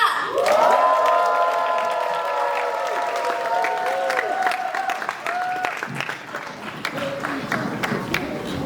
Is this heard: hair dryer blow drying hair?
no